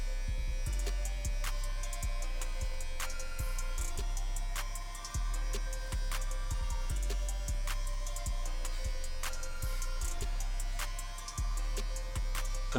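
JRL hair clippers fitted with a 3 guard cutting hair in a self-cut taper, a steady loud electric buzz close up with regular pulsing dips as the clippers stroke through the hair.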